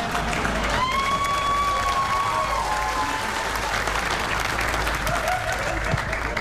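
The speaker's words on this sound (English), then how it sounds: "the claps are nice" Sustained applause from a stand-up comedy audience, a dense steady wash of many hands clapping in a room, loud and continuous throughout, with a few murmuring voices and whoops mixed in.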